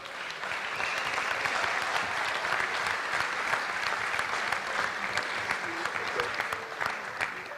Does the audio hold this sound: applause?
yes